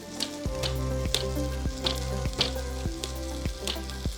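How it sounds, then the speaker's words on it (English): Prime ribeye beef searing in a hot pan with fat, a steady loud sizzle broken by regular sharp clanks and knocks every half second or so. "When we are searing it"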